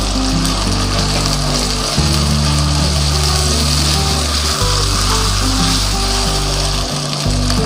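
Onions frying in a pan as ginger garlic paste and cumin go in, a continuous loud sizzle with a low steady hum underneath, close and without talk.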